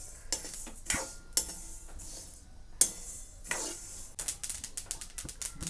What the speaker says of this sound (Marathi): असा पटापटापटा तिळाचा आवाज येतोय